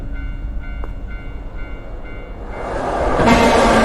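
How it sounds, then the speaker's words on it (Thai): A train rushes along railway tracks in the Tsugunohi horror video game, starting as a low distant rumble with faint tonal hums, then swelling abruptly into a loud, close roar of rolling wheels. "ทำไมมีเารถไฟวิ่งผ่านตรงนี้"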